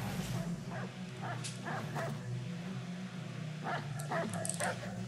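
A dog in Assassin's Creed III, The Tyranny of King Washington, gives a run of short, sharp barks and yips, some spaced apart and others clustered close together, over a low ambient hum.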